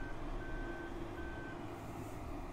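A truck in the farming video game Farming Simulator 2015 gives intermittent reversing beeps over a steady engine drone, the beeps fairly faint and spaced apart.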